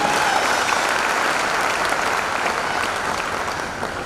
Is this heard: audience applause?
yes